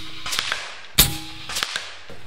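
A .457 caliber air sniper rifle fired at a long-range target: one sharp, loud crack near the middle, with softer clicks and handling noises before and after it.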